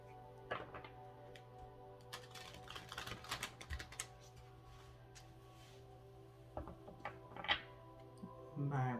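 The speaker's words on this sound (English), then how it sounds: "I'm going to shuffle the Power of Surrender cards by threes as well for your message of support." Oracle cards from the Power of Surrender deck riffled and shuffled by hand in small bursts, with soft crisp clicks and flutters, fairly close and quiet over a steady low hum.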